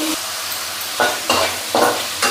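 Thinly cut potato and beans fry in oil while being stirred, giving a loud close sizzle with three bursts of spatula scraping in quick succession.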